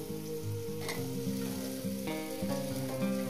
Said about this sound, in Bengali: আলুটাকে আমি ভেজে নেব।